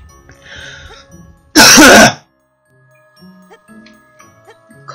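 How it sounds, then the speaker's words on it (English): A loud, sharp cough bursts out once for about half a second in the middle of a quiet couple's session playing Fireboy and Watergirl, with faint game sounds around it. "Coughed on me."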